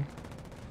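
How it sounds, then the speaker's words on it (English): Gunfire in the tank game War Thunder, a dense steady rattle of shots running through the whole moment at fairly low level, with no voice over it. "Who's shooting at me?"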